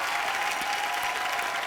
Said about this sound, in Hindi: इनके जोरदार तालियां इनके लिए